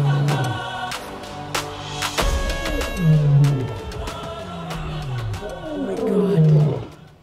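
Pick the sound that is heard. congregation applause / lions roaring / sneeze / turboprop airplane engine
lions roaring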